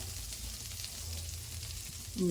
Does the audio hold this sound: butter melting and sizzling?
yes